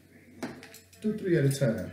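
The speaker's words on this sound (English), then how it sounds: "You just 2 spoons together, crush them." Two metal spoons clink and scrape while crushing cherries for wet cherry wine, a few light clatters and squishes mixed in with someone talking.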